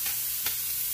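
Multicolored peppers, onion and celery frying in a pan give a soft, steady sizzle with a brief scraping toss in the middle, quiet and without talk.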